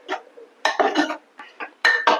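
A metal spoon stirs spices and salt into guar beans in a pot, making several close, irregular scraping clinks against the pot in short bursts with brief pauses.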